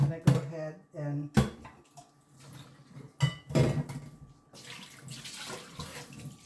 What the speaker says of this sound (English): wash our beef